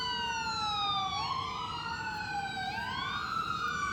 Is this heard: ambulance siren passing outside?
yes